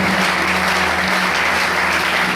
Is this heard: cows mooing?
no